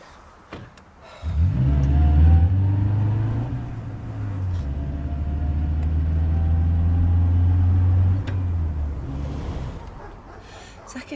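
A car engine idles, then revs up loudly and holds a steady rumbling drone for several seconds before easing back down, heard close with no talking over it.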